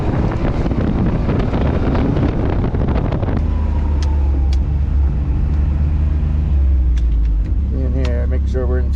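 A UTV pulls away onto snowy trails after a heavy snowstorm, its engine a steady low rumble that drops into a smoother drone midway, with wind buffeting the microphone throughout and a voice speaking briefly.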